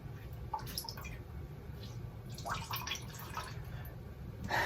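Wet hair is scrunched over a bowl, giving faint, scattered drips and small trickles of water falling into it, close and quiet, with no talking.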